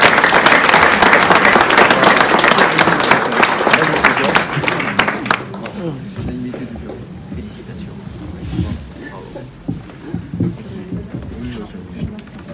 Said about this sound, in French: On peut l'applaudir alors, c'est bien.